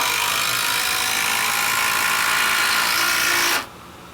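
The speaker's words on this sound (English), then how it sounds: "Here's the DeWalt driver." A DeWalt driver spins a lag screw into wood, a loud, close, continuous high whirring motor drone that holds steady for several seconds, then abruptly cuts off.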